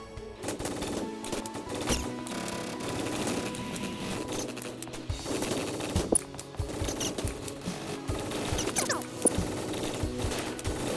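Combat rifle gunfire in the browser shooter REPULS.io during a containment team deathmatch: rapid, steady automatic bursts of crisp shots, repeated throughout over a busy game soundscape.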